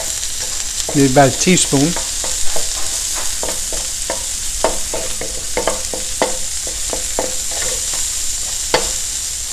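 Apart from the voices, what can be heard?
garlic and butter frying, stirred in a pan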